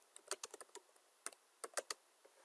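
Someone types a journal entry on a computer keyboard: crisp, close keystrokes in quick irregular bursts, with short pauses between them and no voices.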